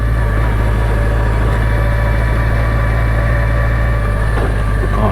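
A 1991 BMW K100LT motorcycle with sidecar engine hums at a steady, loud, low drone, running continuously with a constant throb and no talking.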